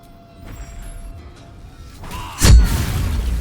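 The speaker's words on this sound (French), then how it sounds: "l'explosion" An explosion in the video game Baldur's Gate 3 arrives as a single sudden booming burst with a deep rumble that lingers and fades over the last second, following low background noise.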